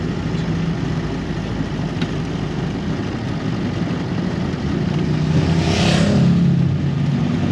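A vintage Austin 7 car engine with an SU carburettor hums steadily, then rises in pitch as it accelerates near the end, with road noise underneath.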